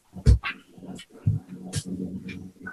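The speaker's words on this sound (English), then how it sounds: "I have some very excited dogs around me" Several excited dogs whimpering and whining close by, with short bursts of yelps and squeaky cries over low background rumble.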